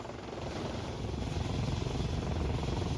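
A white helicopter with red and white blades flies over the East River in New York City, its rotor giving a loud, steady, continuous whir with no voices.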